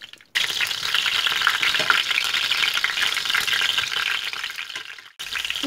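Chicken pieces for escabeche frying in oil in a pan, making a dense, even, crackling sizzle that holds steadily for several seconds between two brief cuts of silence.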